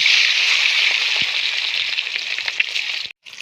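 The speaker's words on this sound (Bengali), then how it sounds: "একই তেলের ডিমগুলোও বাজিয়ে নেবো, কোয়েলের ডিম।" Quail eggs fry in hot oil with a loud, steady sizzle and scattered crackles that cut off abruptly near the end.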